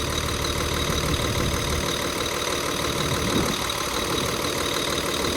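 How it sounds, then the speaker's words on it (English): A Scania diesel engine in a DX420 machine runs steadily at idle, a loud, close, continuous mechanical drone with a slightly uneven knocking character and no talk. "They do sound funny, don't they, these Scania engines?"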